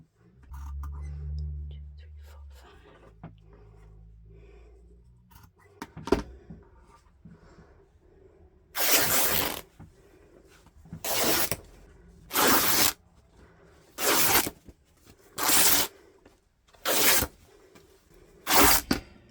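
Scissors snip through pre-washed cotton dress fabric to cut five-inch ruffle strips, a series of about seven crisp, close cuts in a steady rhythm after a quiet stretch with faint low hum.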